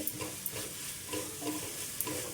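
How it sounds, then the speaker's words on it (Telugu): Boiled broad beans being stirred into a tomato curry in a pan, with repeated close scraping strokes over a soft, steady sizzle and no talking. "మనం బాయిల్ చేసుకున్న ఈ చిక్కడి గింజలను అయితే ఇందులో వేసుకుందామండి చూడండి ఈ విధంగా కలిపేసుకోవాలి"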